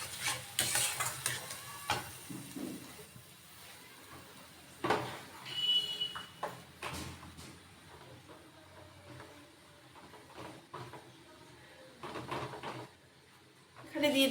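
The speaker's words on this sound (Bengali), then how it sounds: "তারপর ভালো করে কষিয়ে নেব" Tomato paste and spices sauté in a pan with a low sizzle and repeated scraping strokes of a spatula, close by, as a voice talks intermittently over the cooking.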